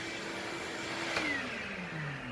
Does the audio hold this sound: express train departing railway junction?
no